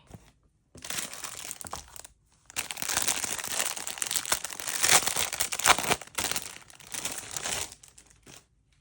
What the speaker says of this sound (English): Can't get this paper off.